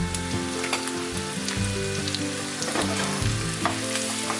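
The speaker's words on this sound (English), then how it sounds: "Once you see the ginger garlic slightly spluttering, once you see that spluttering, you'll see a slight spluttering around." Ginger and garlic sizzle and splutter steadily in a hot pan over medium-high heat, a dense continuous frying hiss with small popping bursts and the occasional clink of stirring, no talking.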